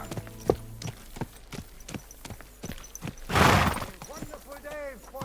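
Horse hooves clip-clop in the medieval game Kingdom Come Deliverance II, with evenly spaced, crisp hoof strikes on a hard surface interrupted by a loud crashing burst, while a voice speaks near the end.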